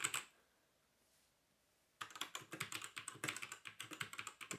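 Typing on a Havit 60% mechanical keyboard: one click, a short pause, then a fast run of sharp, close keystrokes clattering in a steady rhythm until the end.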